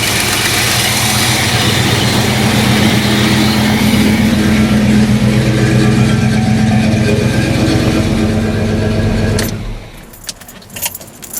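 1984 Chevy engine idling after a fuel pump replacement, a loud steady rumble running smoothly for about nine seconds before it shuts off, followed by a few light metallic jingles and clicks.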